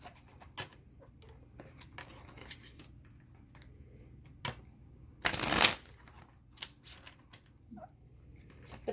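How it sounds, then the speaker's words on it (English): A deck of oracle cards is shuffled once in a single quick, crisp burst of flicking cards, close and clear, set among soft scattered taps and handling noises in an otherwise quiet room. "And I'm being pulsed to shuffle one more time,"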